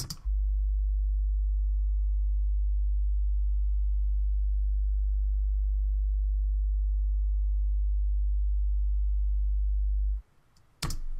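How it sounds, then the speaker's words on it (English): A sustained, very deep bass tone hums steadily for about ten seconds, smooth and unbroken, with brief clicks at the start and end. "we have our big fat bass track"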